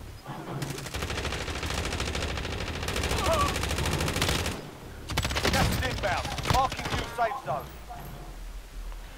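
Rapid automatic gunfire from Call of Duty Modern Warfare (2019) crackles in long bursts with brief pauses, loud and close, as players talk over the shooting.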